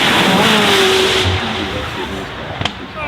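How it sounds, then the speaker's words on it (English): A McLaren Senna hypercar driven flat out up a hill roars loudly at close range, its engine note climbing and then easing as it passes, with a sharp crack near the end. "The Mclaren Senna, Bruno Senna at the wheel of this car"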